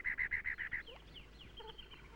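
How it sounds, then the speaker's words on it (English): A cactus wren gives a harsh, repetitious call in the Sonoran desert among saguaro cactus: a fast run of about six loud, even rasping notes, followed by fainter chirps from other birds. "The cactus wren compensates for its lack of size with a harsh, repetitious call."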